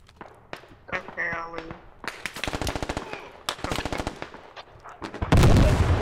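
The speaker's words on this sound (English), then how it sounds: "Where are they shooting from?" Gunfire in the military shooter Squad, with sharp scattered shots building into rapid bursts and volleys at varying distances, then a heavy loud blast near the end; voices are faintly present.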